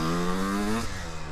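A motorcycle engine catches and starts up again, a brief rough buzzing tone that drops in pitch partway through, heard close and on its own.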